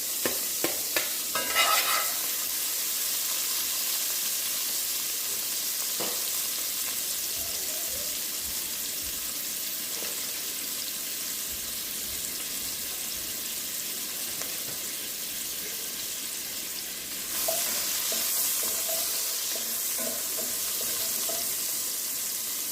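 Onion, garlic and peppers sauteing in a pan for a Jamaican breakfast, giving a steady, loud, close hiss of frying that lasts throughout, with a few stirring knocks near the start and a brief surge later on.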